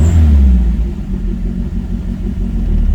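A car engine idles steadily just after starting, a loud, continuous low rumble close by with an uneven mid-frequency throb, the car having had clutch work done and clutch cables still to fix.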